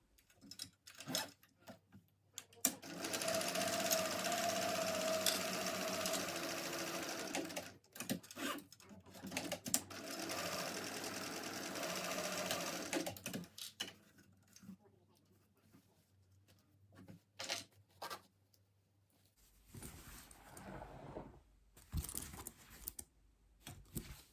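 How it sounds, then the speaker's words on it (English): A sewing machine runs a narrow seam on a crossbody bag pocket in two steady stitching bursts of about five seconds each, with quieter handling noises and pauses between and after. "now we're going to stitch this again with an 1/8 inch seam allowance"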